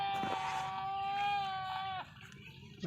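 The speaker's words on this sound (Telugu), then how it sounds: "గొర్రెలు మేకలు వచ్చేసి గుట్ట కింద చేరుకున్నమాట చూడండి" Sheep and goats gathered below a hill by a lake, with one long, clear, nearby bleat followed by quieter outdoor background.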